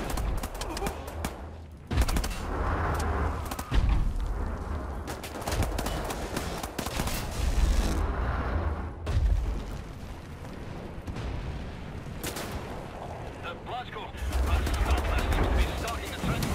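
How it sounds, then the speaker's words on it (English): Bursts of gunfire in Wolfenstein: The New Order, loud and repeated in clusters through the clip, with a player talking over much of it. "I thought you'd be dead with 3 shots"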